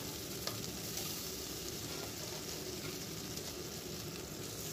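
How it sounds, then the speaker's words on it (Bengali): Chopped tomato and peas fry in a pan with a dense, steady sizzle that stays even throughout, close up and quiet overall, with a faint tap of stirring early on and no voices. "এবারে একটা গোটা টমেটোকে কুচি করে দিয়েছি এবং কিছুটা মটরশুঁটি এর মধ্যে দিয়ে একটু ভালো করে ভেজে নিচ্ছি।"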